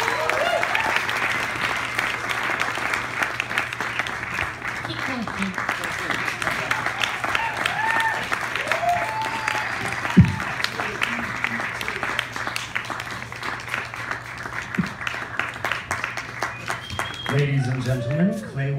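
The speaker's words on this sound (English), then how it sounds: "Can we have a round of applause for Claywoman?" An audience gives a round of applause for Claywoman at a live interview event, steady clapping running throughout with people talking over and around it and a few louder knocks and shouts.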